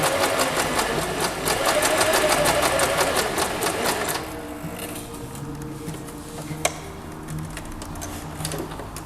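A sewing machine gathering and stitching fabric runs in a fast, steady whirring rhythm for about four seconds, then stops, leaving quiet handling noises and a faint click.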